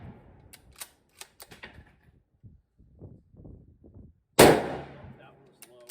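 A single loud gunshot from a Mosin Nagant M91/30 or M44 bolt-action rifle at an outdoor range, sharp and close with a decaying echo, preceded by soft handling clicks and rustles.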